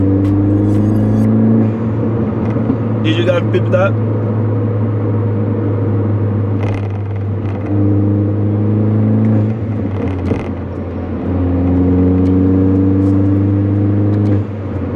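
A Mini Cooper S engine hums steadily with rising and falling revs as it downshifts, a deep rumbling intake note throughout, with a brief spoken question partway.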